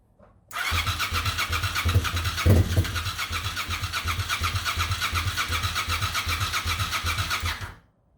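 A 1998 Suzuki TL1000R motorcycle, revived after sitting for 15 years, cranking on the starter with a steady rapid whirring chug that runs for about seven seconds without catching, loud and close, no talking.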